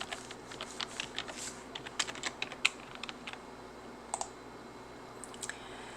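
Windows PC keyboard keys pressed in an uneven run of quiet, close clicks and taps, a few sharper strokes standing out, with no voices.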